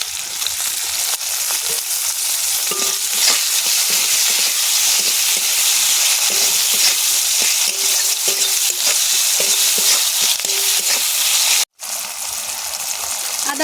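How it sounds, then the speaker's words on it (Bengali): Tomatoes hit a pan of frying onions and keep up a loud, unbroken sizzle close by, with a brief sharp cut near the end before the hiss resumes. "এবারে দিয়ে দেব টমেটো"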